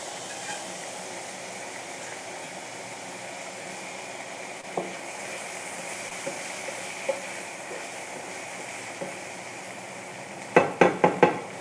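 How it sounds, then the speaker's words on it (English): Boiled gatte roast with onions in a pan under a soft, steady sizzle, with a few scattered utensil taps and a quick burst of louder scraping clatter near the end. "Roast it along with the onions so we don't waste"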